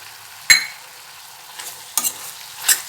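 A spoon scrapes and knocks sharply against the pan as a brinjal mixture fries with chilli powder, giving a few distinct stirring clicks over a faint, quiet sizzle.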